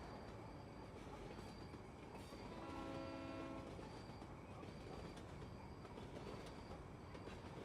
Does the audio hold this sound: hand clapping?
no